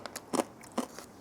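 Crunchy Ecuadorian crackers, lightly sweet with vanilla, are bitten close up, giving two crisp crunches among smaller crackles and chewing sounds.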